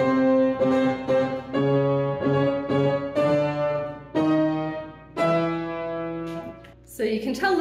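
A roughly tuned Nordiska piano sounds B2, B3 and B4 together in a series of loud, close struck chords that ring and decay between strikes, with a longer sustained chord near the end and a brief noisy rustle at the close.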